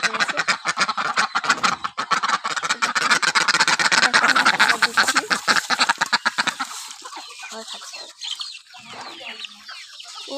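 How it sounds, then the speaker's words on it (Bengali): Ducks and chickens being fed grain on a home poultry yard quack and cluck in a dense, loud jumble for most of the stretch, then thin out into scattered calls. "তো দেখুন আমরা আমাদের হাঁসগুলোকে আমরা দান খাওয়াই"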